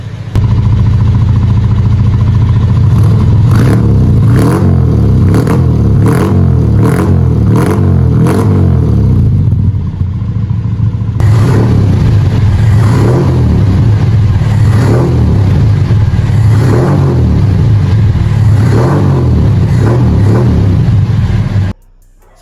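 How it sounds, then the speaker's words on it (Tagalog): A Toyota 4K engine fitted with a Greddy dual exhaust runs at a steady close idle with a deep, even rumble, briefly rising in a few quick revs before settling back. "Naka dual exhaust nga pala tayo dito na Gredy. Buti na lang maganda yung tunog dito sa ating 4K."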